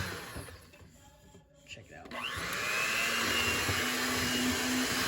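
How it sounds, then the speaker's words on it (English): A kitchen blender spins up about two seconds in and then runs as a loud, steady whir. A short spoken remark comes before it. "Okay, here we go. The blender."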